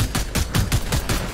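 Gunfire in a Fortnite-style video game, a quick run of about seven loud, evenly spaced shots.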